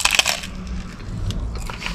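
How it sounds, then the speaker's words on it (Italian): Crispy stuffed white pizza crust topped with coarse salt crunches while being eaten, with repeated close, sharp crackling bites and chewing, loudest at the start. "Senti come scrocchia."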